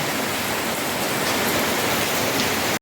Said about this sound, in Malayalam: നല്ല മഴയും കാറ്റും ഉണ്ട്